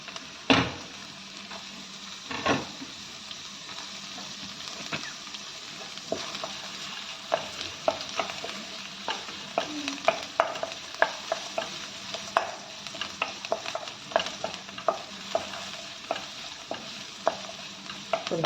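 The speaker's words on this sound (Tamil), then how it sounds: "கேரட்டையும் போட்டு அதிலே வதக்கிடுறோம்" Carrots sautéing in a pan for rice upma, with a steady low sizzle broken by frequent sharp scrapes and taps of a stirring spoon, close and fairly quiet throughout.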